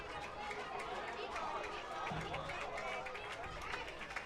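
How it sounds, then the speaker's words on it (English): Baseball crowd at a Chatham-Kent Barnstormers versus Barrie Baycats game cheering and chattering, a broad sustained roar of many voices at steady volume, swelling slightly midway. "Now this crowd making the most noise they've made this afternoon"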